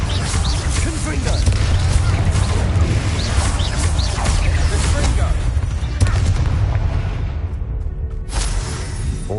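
Confringo blasting spells firing in the video game Hogwarts Legacy: a dense, continuous barrage of loud booms, crashes and explosive bursts with heavy low rumble throughout, with a brief dip in intensity near the end.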